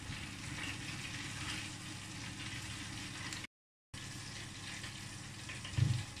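Thin slices of pork belly coated in dry batter mix fry in hot oil in a covered pan, giving a steady, close, even sizzle throughout with only a brief gap and no talking.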